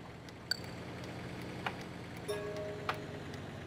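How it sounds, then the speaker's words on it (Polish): A soft, steady ticking of a bus's left turn signal in a bus driving video game, under a low engine hum, faint clicks at an even pace. "Lewy kierunkowskaz."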